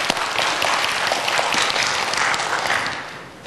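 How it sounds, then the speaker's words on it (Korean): Korean church congregation claps together in praise, a sustained wash of many hands that holds steady and tapers slightly near the end. "우리 좋으신 하나님께 찬양의 박수를 우리"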